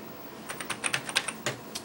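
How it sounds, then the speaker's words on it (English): Keys clack on a stiff, rigid Atari 800XL computer keyboard in a short run of about ten sharp, uneven strokes, close and clear with no talking. "it's no wonder older people think that typing gives you arthritis, because this keyboard, it's stiff, it's firm, it's rigid"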